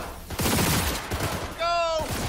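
Rapid gunfire bursts in Cyberpunk 2077 crackle densely under overlapping speech, with a bright electronic tone sweeping through near the middle before the shots resume.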